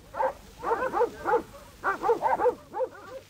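Sheepdogs barking during a sheep muster in the Marlborough backcountry, repeated bursts of several dogs baying and yapping in quick clusters, moderately close with short pauses between volleys.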